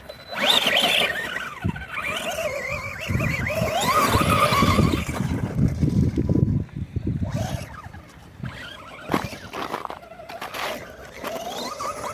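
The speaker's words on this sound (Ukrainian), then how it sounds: "Гоночний автомобіль." A Remo Hobby EVO-R 8066 radio-controlled car drives on grass, its small electric motor whining and rising and falling in pitch as it speeds up and turns nearby, with a few knocks.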